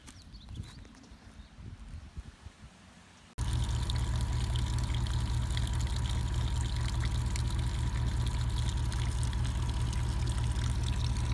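Water pours steadily from an old pipe at a gold-mining site in Plumas National Forest, a loud constant gushing that starts abruptly after a few seconds of quieter outdoor sounds and continues without pause.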